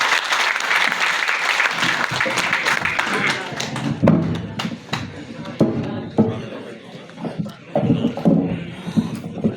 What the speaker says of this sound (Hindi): फर्रुखाबाद की आशीर्वाद भरी तालियों के साथ आपका स्वागत है।